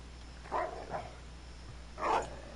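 Dog barks inside the horror video game Puppet House, a few soft muffled barks, two close together and then one more after a pause, faint over a quiet background hum.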